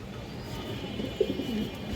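Green-necked pigeons in a seller's coop coo once, softly and briefly, in the middle of a short stretch of steady background noise.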